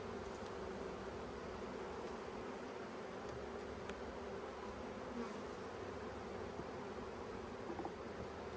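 Honeybees hum steadily in an open hive during a frame inspection, a dense continuous buzz close by with no voices.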